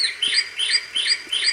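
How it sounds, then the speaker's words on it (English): Bird song played back by a Medisana WL444 wake-up light: bright, repeating chirps and tweets in a steady rhythm, four or five phrases at moderate level with no talking. "Bird song."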